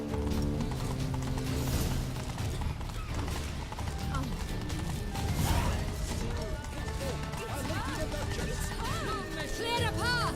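Horse hooves clopping as a rider travels in The Witcher 3: Blood and Wine, a steady galloping beat under music and spoken dialogue, moderately loud.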